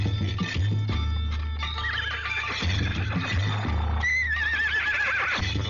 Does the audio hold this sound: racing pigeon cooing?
no